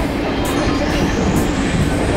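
Steady broadband rumble of a moving passenger train during a Taiwan rail journey between Hualien and Taipei, recorded from inside the carriage, continuous and fairly loud with no distinct events.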